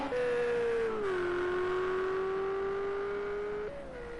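A race car in Project CARS 2 takes the Druids hairpin at Brands Hatch with a bit of oversteer. The engine holds a loud, steady tone that dips as the car brakes into the bend, holds through the turn, then steps up as it accelerates out.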